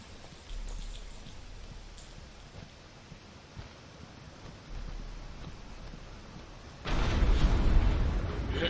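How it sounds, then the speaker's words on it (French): Rain falls steadily in the Batman Arkham Asylum video game, a soft continuous patter that rises into a much heavier, louder downpour near the end, with no voices. "Il commence à pleuvoir"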